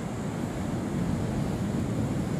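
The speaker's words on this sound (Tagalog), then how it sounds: "Laging ganyan alon?" Steady roar of sea waves breaking on a beach, continuous broadband surf with wind noise buffeting the microphone, no voices.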